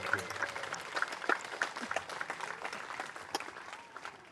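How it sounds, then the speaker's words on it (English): Scattered outdoor applause at a Veterans Day event greets the performers, with individual claps standing out unevenly over a thin crowd, fairly faint, and voices and chatter mixed in underneath. "Big round of applause for all the performers up"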